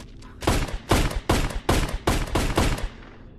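AK rifle fired in a VRChat game, a rapid burst of about seven loud, evenly spaced gunshots over roughly three seconds, close and sharp.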